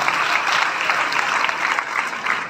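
Sustained applause from an audience at a felicitation event, a dense, even clapping that stays loud and steady throughout with no voices over it.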